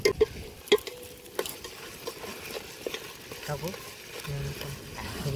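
Masala for vegetable biryani frying in a pan on a farm, with a spoon clanking and scraping at an uneven pace over a low sizzle.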